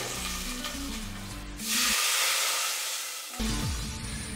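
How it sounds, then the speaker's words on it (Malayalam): Water coming to a boil in a pressure cooker while making a quick cooker biryani, a steady loud hissing rush that swells in the middle and stays close throughout, with faint background music and no speech. "വെള്ളം തിളച്ചു വന്നിട്ടുണ്ട്."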